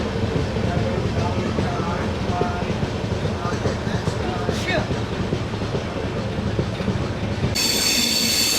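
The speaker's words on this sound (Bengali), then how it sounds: "আর একটা টানেল পড়ছে সামনে, যেটার দিকে এখন ট্রেন যাচ্ছে" A train rumbles steadily along the rails toward a tunnel, with clattering wheels and a brief metallic squeal, loud and close throughout.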